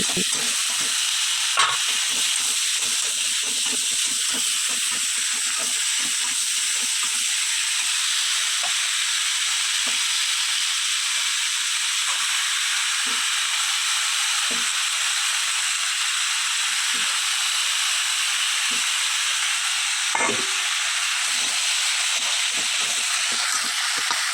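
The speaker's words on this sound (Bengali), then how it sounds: "মশলাগুলি কিছু সময় ভেজে নেওয়ার পরে এর মধ্যে একে একে আলু কুমড়ো শাক সব দিয়ে দেব দিয়ে এটিকে ভালো করে নাড়তে থাকবো" Potato, pumpkin and amaranth greens stir-fried with spices in a pan, producing a loud, continuous hissing sizzle with soft, irregular stirring knocks throughout, close and without speech.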